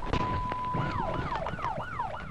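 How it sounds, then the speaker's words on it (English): A state trooper's police car siren, heard from a dash camera, starts as a steady tone and then switches into a rising and falling wail that repeats several times, loud over road noise. "the trooper turns on his siren as soon as he turns on to Hudson"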